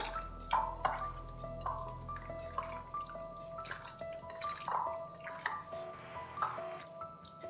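Chicken curry pieces being mixed with spices by hand, giving soft wet squishing and dripping sounds in a steady irregular rhythm, close and fairly quiet, with no talking.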